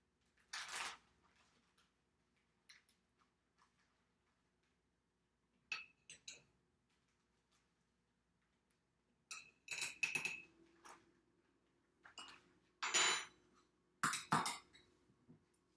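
A spoon clinks against a jar and glass while a spoonful or two of brown sugar goes into kombucha for secondary fermentation, in sharp separate clusters of clinks and taps between quiet pauses.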